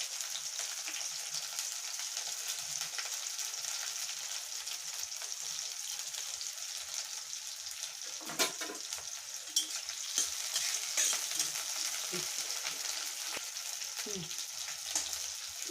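Onion and chopped green chillies frying in oil after cumin, a steady close sizzle throughout with occasional stirring scrapes and small crackles, no talk.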